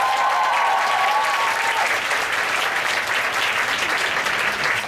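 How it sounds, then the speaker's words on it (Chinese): Sustained audience applause at an outdoor seaside concert by the riverbank in Ximen, a dense, loud crowd clapping that holds steady for the whole stretch with no speech over it. "掌声一下好不好？"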